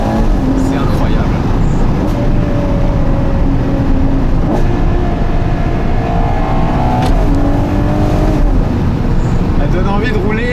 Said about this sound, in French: Elle donne envie de rouler un petit peu trop vite cette voiture